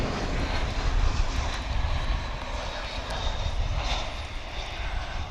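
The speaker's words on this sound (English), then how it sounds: "This A321 coming in from San Diego, California." An Airbus A321 airliner on approach into DFW International Airport after a flight from San Diego gives a steady, broadband engine roar at moderate distance, a continuous rushing drone with no talk over it.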